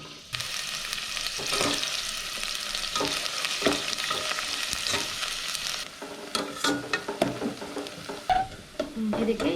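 Onions frying in plenty of oil for egg biryani in a home kitchen, giving a steady loud sizzle with stirring scrapes and clinks, which turn more broken and clattery toward the end.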